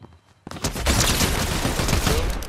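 A sudden burst of rapid gunfire in an online shooter video game erupts after a short quiet start, a dense loud volley of shots that continues to the end.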